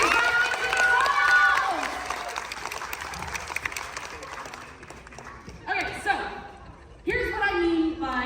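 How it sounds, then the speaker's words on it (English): A crowd at a live science museum demonstration breaks into loud applause and cheering that fades after a couple of seconds, then a few scattered voices and a renewed burst near the end. "And one more big round of applause for Colt, everybody."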